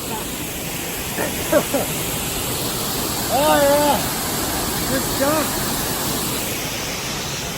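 A massive waterfall at Hickey Gap, a loud, constant broadband roar of falling water filling the scene, with a voice briefly speaking over it.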